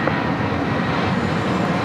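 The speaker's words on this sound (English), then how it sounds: "Our next takeoff, American Airlines Flight 2766. It's an A321 heading to Dallas," An American Airlines Airbus A321 departing LAX, heard as a steady broadband engine roar that stays loud and continuous throughout, with no voices.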